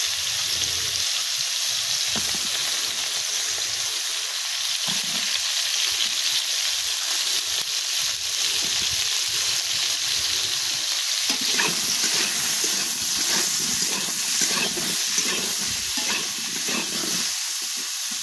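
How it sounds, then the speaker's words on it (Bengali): Sliced ridge gourd fries in oil in a pan over a hot stove, giving a continuous close sizzle that grows busier and more crackly in the second half, with no voices. "ঝিঙেগুলো একটু ভেজে নেব।"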